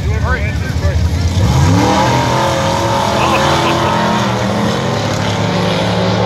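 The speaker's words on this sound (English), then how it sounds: "top end for the truck coming on." Racing truck engine from a clunkers semi-final race, revving hard toward top end, loud and sustained with rising pitch sweeps, under crowd noise and excited voices.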